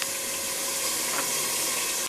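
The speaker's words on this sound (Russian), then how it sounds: "И вот тут у меня мерлуза жарится." Hake fillets fry in a pan with a steady close sizzle and soft crackling hiss, running continuously with no talk.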